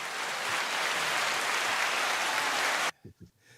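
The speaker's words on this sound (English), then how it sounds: "Can I get some applause, man?" A studio audience on a news show gives sustained applause, a broad even roar of clapping that cuts off abruptly near the end, leaving a few faint low thumps.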